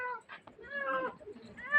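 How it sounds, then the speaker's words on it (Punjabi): A cat trapped in a cage meows repeatedly, close by, in a few drawn-out cries with short pauses between them. "ਹੁਣ ਮਿਆਉ ਮਿਆਉ ਕਰ ਰਹੀ ਹੈ"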